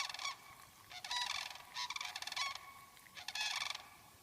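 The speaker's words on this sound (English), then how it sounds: "the sandhill cranes start chirping over there" Several bugling, trumpeting calls of sandhill cranes ring out in short bursts, faint and at a distance, with quiet gaps between them.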